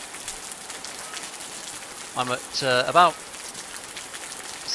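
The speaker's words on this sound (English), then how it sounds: "It's pissing it down with rain." Heavy rain pours steadily in the video game Osiris: New Dawn, a dense hiss throughout, with someone talking briefly partway through.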